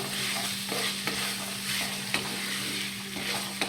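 Potatoes stir-fried with spices in melted goat fat in a kadai while making ghugni: steady close sizzling with repeated scraping stirs of a spoon against the pan, no voices.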